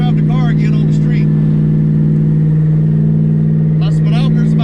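Saleen car with a T56 Magnum manual gearbox cruising on a street, its engine droning steadily at mid pitch with strong low harmonics throughout, while someone talks over it.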